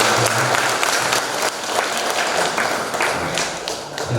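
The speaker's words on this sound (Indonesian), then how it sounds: "Kita beri tepuk tangan." A wedding crowd claps together after a drilled marching-style command routine, a thick, continuous round of applause with scattered louder claps and a few thumps, under some faint voices throughout.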